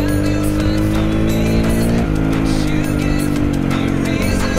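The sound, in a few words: car driving past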